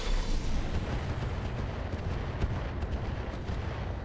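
Mech weapons in the BattleTech-based game RogueTech unleash a dense, continuous barrage of booming blasts and rumbling explosions, loud and close throughout, with no talking.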